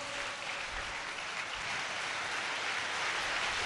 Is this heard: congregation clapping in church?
yes